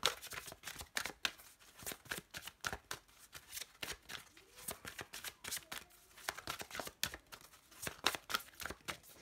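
A deck of tarot cards is shuffled and cut by hand, giving rapid, rhythmic riffling and flicking bursts that repeat close up throughout with brief pauses between runs.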